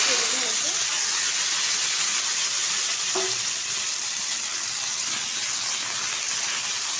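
Washed, cut potatoes fry in a wok for aloo posto with a loud, continuous sizzle and hiss. A brief clink sounds partway through.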